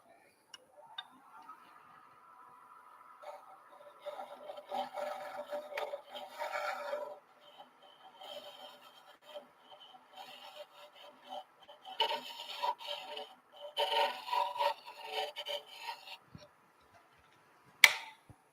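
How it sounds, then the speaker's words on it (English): A half-inch round nose scraper cuts wood on a lathe, a soft intermittent scraping and ticking in bursts against the spinning workpiece, moderately loud with pauses between passes. "I've got a 1/2-inch round nose scraper here. Let's see if I can get that out."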